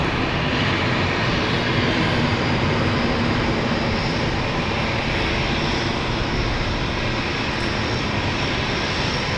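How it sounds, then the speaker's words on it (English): At London City Airport, the jet engines of a passenger aircraft bound for Florence start up, giving a dense, constant roar that fills the whole stretch without pause. "The Florence flight is also starting up."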